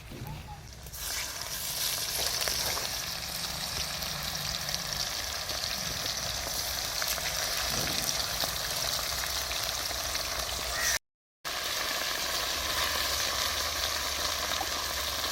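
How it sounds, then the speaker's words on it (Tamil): Pieces of shark fish sizzle and crackle in hot oil for a pickle, a continuous loud frying hiss with a brief dropout near the end. "எண்ணெயிலேயே மீனை நல்லா பரட்டி விட்டுக்கலாம்"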